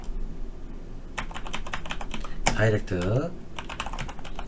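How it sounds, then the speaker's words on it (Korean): Rapid keystrokes on a computer keyboard while entering text into a PowerPoint slide during an ITQ exam practice session, a steady clicking patter with a short burst of speech in the middle. "이거 타이핑 할게요."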